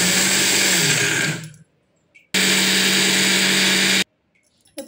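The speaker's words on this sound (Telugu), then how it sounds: "ఇప్పుడు ఇది అంతా మిక్సీకి వేస్తున్నానండి నేను" A kitchen mixer grinder whirs loudly while grinding coconut and chilli into a spice powder, running in two steady bursts of about a second and a half each with abrupt stops and a short silence between.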